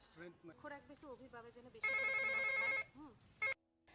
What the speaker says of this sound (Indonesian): Tiba-tiba telepon di rumah Abi berdering 2 kali, seperti kode darurat yang biasa dilakukan Bindu.